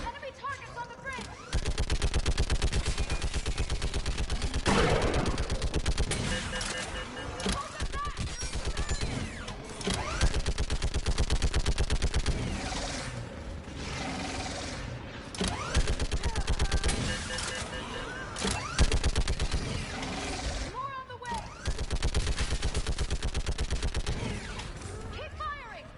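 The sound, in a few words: gunfire in the video game Mass Effect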